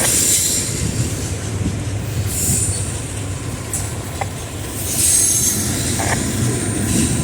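A Norfolk Southern freight train with mid-train locomotives rumbles steadily past up close at Shawsville, Virginia, wheels grinding and squealing on the rails, with a heavy continuous roar throughout.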